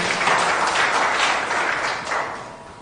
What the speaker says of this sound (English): A bigger round of applause to the UNEB team.